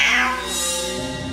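A cat meows as a sound effect in a narrated Filipino aswang horror story, set at a folk healer's hut; one drawn-out, fairly loud mew stands alone with no talk over it.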